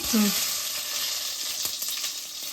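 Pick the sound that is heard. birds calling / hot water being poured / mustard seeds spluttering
mustard seeds spluttering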